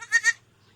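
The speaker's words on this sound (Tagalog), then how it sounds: "baby kambing." A newborn baby goat gives a single short, high, quavering bleat up close, fading to quiet with a faint low hum underneath.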